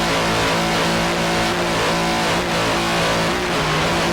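Racing powerboat engine at the Chesapeake Challenge, heard on board, roaring loud and continuous with the throttle working up and down, a steady close-up drone with no speech.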